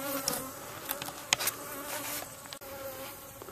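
Honeybees buzz around an opened hive during a honey harvest, a dense, continuous hum with individual bees zipping past close by.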